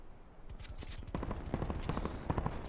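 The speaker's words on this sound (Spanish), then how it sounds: "Vamos a escuchar los disparos" Gunfire in Call of Duty Black Ops 4 on PS4 Pro: rapid bursts of shots, some distant and some nearer, that build into a thick, continuous fusillade with no talk over it.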